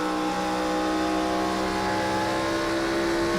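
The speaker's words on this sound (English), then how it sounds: "Listen to that car just in the clutch." Steady, loud engine drone of an IROC race car at Kentucky in a racing video game, holding a sustained high note with clutch held in through a turn, alone and unbroken.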